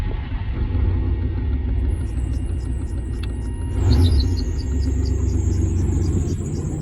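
A 1992 Chevy 350 V8 pickup truck engine idles steadily after starting, a continuous low rumble close by with a slight swell partway through, as if the gas is pressed briefly.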